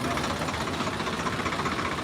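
A tractor engine runs at a tractor market near a vegetable market, a steady low rumbling chug, close and continuous without speech.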